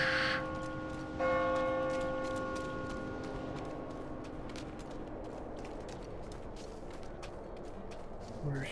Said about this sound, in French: Et la cloche.